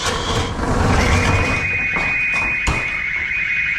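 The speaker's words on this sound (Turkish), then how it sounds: "Böyle alarm ötüyor." A steady high-pitched electronic alarm tone rings continuously in a storage depot over a noisy, rumbling background, with a brief knock partway through.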